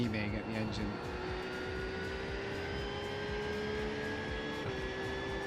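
A GT3 race car at Brands Hatch in iRacing holds a loud, sustained engine drone with steady rising pitch, continuous throughout with a voice talking over it.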